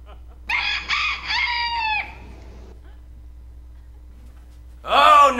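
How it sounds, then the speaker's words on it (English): A rooster crows loudly nearby in a long multi-part call, followed after a pause by the start of a second crow. "it's illegal for a rooster to crow within the city limits"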